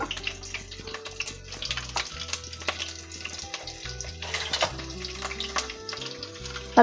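Green chilies and cumin frying in hot oil for a dondakaya masala curry, a crackling sizzle with frequent sharp pops and spatters, close and steady for several seconds.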